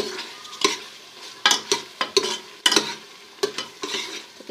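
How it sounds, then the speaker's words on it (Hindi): Meat for aloo gosht fries in ghee in a pot, a bubbling sizzle punctuated by repeated loud stirring scrapes and clanks at an irregular pace, close up with no talking. "अच्छे तरीके से हम इसको भून लेंगे अब घी डालकर"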